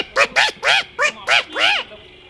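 A voice imitates quarrelling birds with six loud, harsh honking calls in quick succession, each sharp and nasal, ending in quiet.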